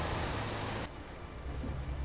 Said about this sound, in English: I think I can hear thundering outside.